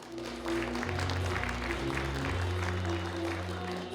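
Audience applause at a vision proclamation ceremony in Pohang for an Asia-Pacific AI center, steady clapping running the full length under a low music or PA hum, moderately loud and continuous.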